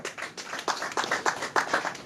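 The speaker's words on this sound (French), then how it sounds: "Merci d'applaudir pour ça." Scattered, sparse clapping from a small audience at a press conference for a rap album release in an atelier, a handful of separate claps in loose rhythm, fairly faint.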